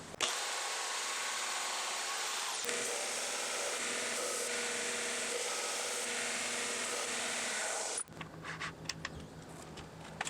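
A cast aluminum drawer handle, about 16.5 inches long, is cut to length with a power saw, giving a loud, steady high-pitched cutting whine that runs for about eight seconds and then cuts off abruptly, leaving scattered clatter and handling noise.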